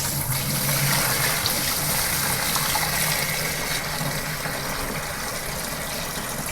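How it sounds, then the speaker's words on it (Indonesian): Water pours steadily into a cheap Mito washing machine tub up to the marked fill line, a continuous rushing splash with a faint low mechanical hum underneath. "Saya masukin airnya sampai sebatas yang ditulis."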